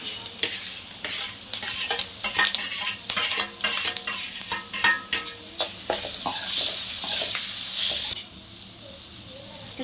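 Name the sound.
grated raw mango frying in oil with green chilies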